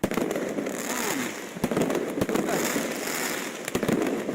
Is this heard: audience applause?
no